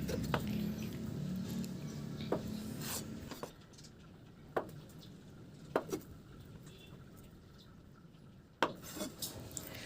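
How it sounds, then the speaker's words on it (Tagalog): Knife slicing tofu into small squares on a cutting board in a home kitchen, with soft scraping and a series of light, irregular taps against the board. "Hiwain ko lang yan ng maliliit na pa-square."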